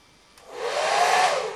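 A hair dryer blasts air over gouache white on an ink and watercolour painting, switching on after a brief click and rising to a steady, close, loud whoosh that holds to the end.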